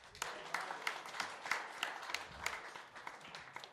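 An audience at a venture capital panel event applauds the event and video teams, steady dense clapping filling the room from a moderate distance with no speech over it.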